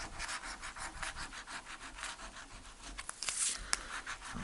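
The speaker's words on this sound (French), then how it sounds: "Il me reste donc 18 tickets à gratter." Paper FDJ BlackJack scratch-card lottery tickets being scratched, a steady close rhythm of short rasping rubs repeating several times a second, with a few brighter scrapes near the end and no talking.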